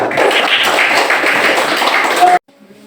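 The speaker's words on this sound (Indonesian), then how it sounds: "Tepuk tangan." A classroom or study group in Indonesia claps together in a loud, steady burst for about two and a half seconds, then it stops abruptly, leaving quiet room tone.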